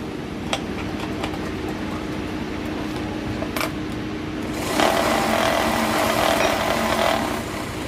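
Sewing machine stitching fabric: a steady mechanical whir and rattle that grows louder and busier about halfway through, close and continuous with no talk.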